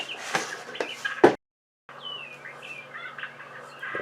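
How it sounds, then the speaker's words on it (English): Songbirds chirp in quick, scattered bursts at moderate distance, with a short silent gap, during work on repairing the casing of a Sanitaire by Electrolux vacuum. "those songbirds are still chirping up a storm"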